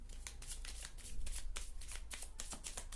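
Oracle cards being shuffled by hand, a quick run of soft riffling flutters close by, faint and steady, with no talking.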